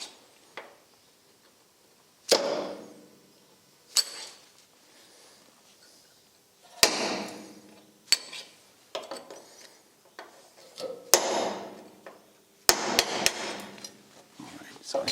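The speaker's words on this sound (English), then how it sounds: "I still need to knock out the bolts that we have cut off" Hammer blows knock cut-off bolts out of an old rusty truck chassis, sharp metallic strikes arriving singly and in quick pairs with pauses between, close and loud.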